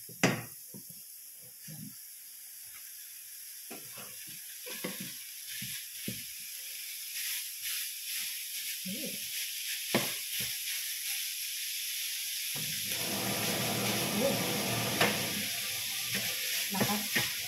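Ground meat hits a hot pan and sizzles strongly, a steady, close frying hiss that grows louder and fuller as it cooks, with occasional stirring clatter.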